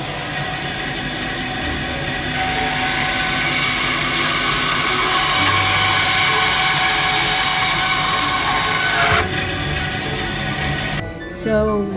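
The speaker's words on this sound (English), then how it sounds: "now we're going to use the bandsaw to cut it into two pieces." Bandsaw cutting pen stock into two pieces, a loud continuous whine with the blade load shifting, then the saw cutting off abruptly near the end.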